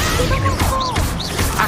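Incendio fire spell cast in Hogwarts Legacy, a loud whooshing burst layered with swooping, chiming magical tones and a crashing impact.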